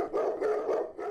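Dog barks used as a sound effect in a radio ad for a Harley-Davidson dealership, several barky bursts in quick succession, loud and close, with no talk over them.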